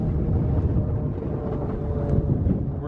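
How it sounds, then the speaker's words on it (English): Wind buffets the microphone with a constant low rumble while a distant plane drones overhead, steady and broad, on a hike toward open dunes with no talk. "There's a plane going overhead."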